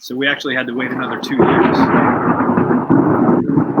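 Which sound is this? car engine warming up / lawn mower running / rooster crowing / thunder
thunder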